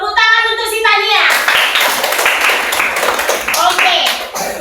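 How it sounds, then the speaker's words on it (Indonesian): A primary school class claps for a pupil named Tania during a Christian religion lesson, brisk, loud, slightly uneven clapping from many small hands that begins right after a teacher's voice and continues with some chatter underneath. "Tepuk tangan untuk si Tania."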